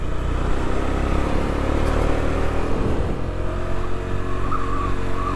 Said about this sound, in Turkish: bir motosiklet sürmeye çıktık bakalım